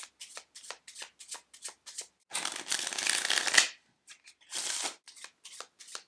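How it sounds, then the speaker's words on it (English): A tarot card deck is shuffled by hand nearby: a run of quick riffles and flicks, then two longer cascading riffle bursts separated by brief pauses, with no talking. "Next, we shuffle the deck."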